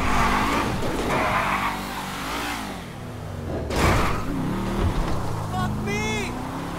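A car being driven in the GTA video game, with its engine humming and revving up and down at close range. Music and other game sounds are mixed in, with a couple of brief swells in the middle.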